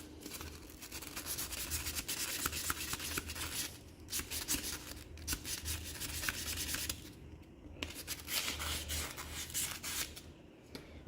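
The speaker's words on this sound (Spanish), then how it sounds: "Vamos a seguir lijando." Steady, close scratchy rubbing of sandpaper against the copper core of a portable Cu/CuSO4 reference cell, continuing with brief pauses over several seconds.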